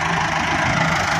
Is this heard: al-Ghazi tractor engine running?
yes